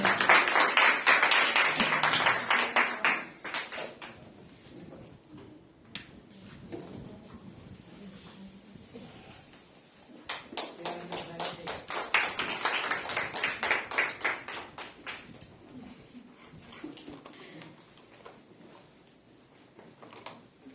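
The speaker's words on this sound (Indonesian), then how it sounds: "Berikan tepuk tangan dong" Congregation clapping hands in time during praise at a church service, crisp rhythmic claps that swell loudly at the start, fade, then return in a second burst before tapering off.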